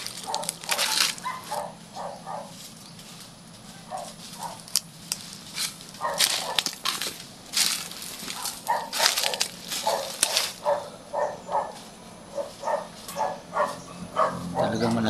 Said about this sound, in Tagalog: Kasi ang dami ng aso.